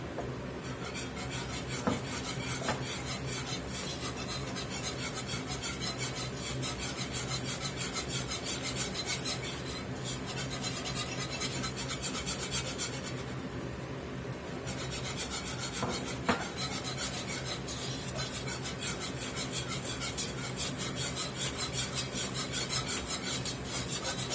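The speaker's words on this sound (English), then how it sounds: "Now we're going to start whisking some flour in here." All-purpose flour whisked into hot oil to start a roux for Cajun meatball stew, a steady scraping and rasping of the whisk against the pot running continuously throughout at close range with no talking.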